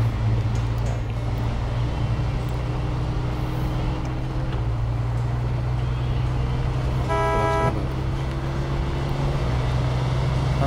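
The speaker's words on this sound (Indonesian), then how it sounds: "Hampir sama ya klakson di Spin Tires dengan Mud Runner." A truck horn in SnowRunner honks once, a short bright blast over the steady low drone of a heavy off-road truck engine idling and rumbling throughout.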